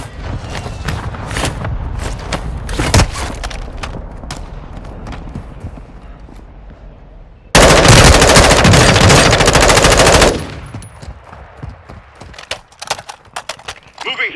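Rapid automatic gunfire rattles in the PS5 shooter Warzone 2.0, loud close bursts and scattered shots over in-game callouts, with one long dense volley in the middle.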